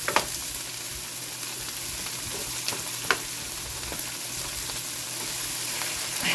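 Onions added to peppers frying in a skillet for a smoked sausage meal give a steady, close sizzle with occasional crackles and stirring scrapes, no voices.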